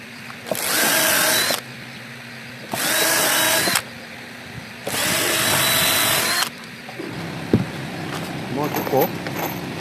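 A power driver sinks screws into a 2x6 wood frame for a solid-wood bed, three separate bursts of loud whirring, each a second or more long with short pauses between, followed by quieter handling clatter and a sharp knock.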